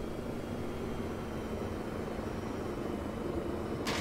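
A helicopter in the Arma 3 video game on the Malden map gives a continuous droning rotor and engine roar throughout, steady and fairly loud, with a short hiss near the end.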